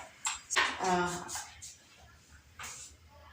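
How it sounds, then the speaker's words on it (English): A spoon scrapes and clinks in a bowl as flour, salt and oil are mixed for chocolate chip cookie dough, coming in a few short bursts with quiet gaps between them. "So mix your ingredients."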